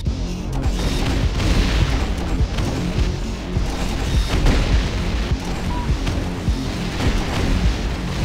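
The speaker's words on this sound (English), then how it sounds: "Grenade launcher." A grenade launcher firing in a video game, with a dense run of heavy booms and blasts overlapping in a continuous, loud barrage.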